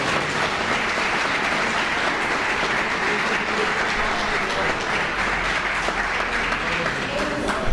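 A church congregation applauds, giving dense, continuous clapping that stays loud and steady throughout, with faint voices mixed in.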